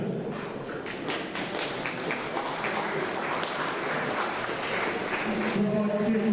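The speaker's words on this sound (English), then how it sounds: "Round of applause." A crowd applauds at a youth combat sports fight night, steady clapping and cheering mixed with muffled thumps and background voices, growing slightly louder toward the end.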